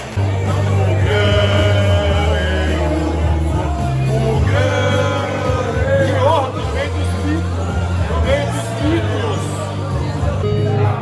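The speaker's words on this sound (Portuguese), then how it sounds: "salva de palmas e muita força positiva para essa galera" A crowd cheers, whoops and shouts steadily at a football club's 2024 season and new jersey launch event, a loud, dense roar of voices over a droning low background.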